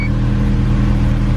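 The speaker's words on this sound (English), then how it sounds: "let's go ahead and start this up. Get a sound clip of it starting" A Honda CRX engine running right after start-up, a loud, steady close-up rumble with an even low drone and no breaks, heard alone without talk.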